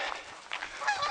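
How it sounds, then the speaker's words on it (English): Geese honk several times over about a second, the calls fairly faint and distant, with no talking. "As the geese fly west."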